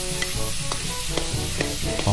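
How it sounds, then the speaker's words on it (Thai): Pork sizzles steadily with fried garlic in a hot pan while a utensil scrapes and stirs it in repeated strokes, close and loud. "นำหมูไปผัดกับกระเทียมเจียวนะครับผัดให้หอมเลยนะครับ"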